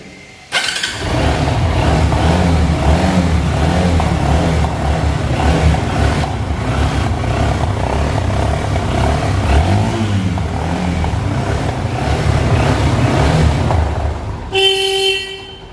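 A 100cc motorcycle engine starts up, then idles loudly and steadily with a throbbing, even rumble that continues until it cuts out near the end.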